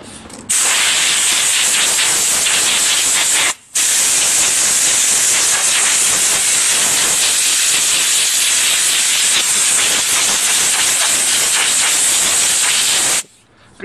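Compressed air blasts through a Briggs and Stratton mower's air filter, blowing dirt out in a loud, continuous hiss that runs for several seconds, breaks briefly, then resumes before cutting off.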